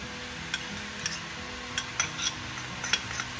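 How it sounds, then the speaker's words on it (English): Tom Yum paste being stirred into vegetables in a pan: soft scraping and occasional light utensil clicks against the pan over a low, steady background. "And mix it so that the paste coats all the vegetables evenly."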